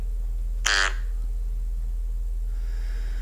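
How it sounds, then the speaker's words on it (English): A short comic fart sound effect named Quack gives one brief, buzzy, duck-like blurt, then quiet room tone follows. "Quack."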